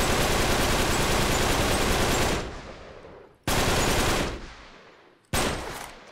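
Loud gunfire from a powerful weapon in Uncharted 3: Drake's Deception, heard as three separate bursts: a long sustained volley, then two shorter blasts, each cutting in sharply and fading away, with no talk over them.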